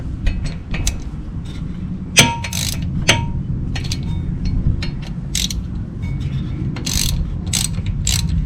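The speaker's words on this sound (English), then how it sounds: "Tighten up the bolts and it's going to pull the rotor off the hub." A ratchet tightens two bolts into the front brake rotor of a 2012 Toyota Camry LE, giving rapid close clicking runs with sharp metallic clinks and creaks, loud and steady with no talking.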